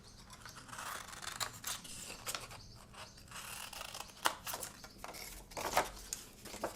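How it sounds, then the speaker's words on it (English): Scissors snip through paper in a run of short, dry cuts along straight lines, close and fairly quiet, with no talking. "So cut out here and cut these straight lines."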